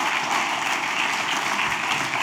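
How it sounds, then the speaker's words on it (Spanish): Church congregation applauding during a sermon, a steady wash of many hands clapping at an even level through the short stretch. "Dale un aplauso al Señor."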